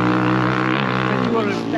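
A motorcycle engine drones loudly and close by with a steady, buzzing tone that holds throughout, while a voice speaks over it.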